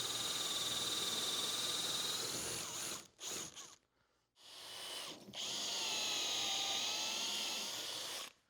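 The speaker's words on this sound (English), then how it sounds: "I'm going to drill a series of dog holes along the front edge" A power drill whines steadily as it bores dog holes into a wooden workbench top, pausing briefly twice before spinning up again for another sustained run.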